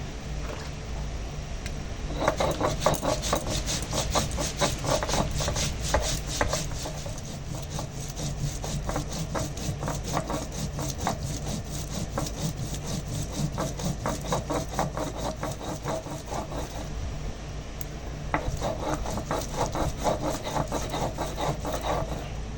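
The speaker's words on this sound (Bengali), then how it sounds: "এবার জিরেটা বাটবো।" Cumin seeds ground on a traditional grinding stone, a steady rough scraping and rubbing repeated continuously at close range for the whole stretch, with no talk over it.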